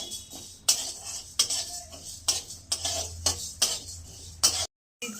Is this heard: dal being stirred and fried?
yes